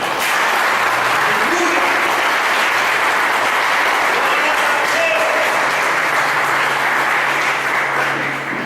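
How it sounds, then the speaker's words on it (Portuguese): A church congregation applauds loudly and steadily at a pastor's sermon, a dense wash of clapping that holds for the whole stretch with faint voices underneath. "Você pode aplaudir esse Deus?"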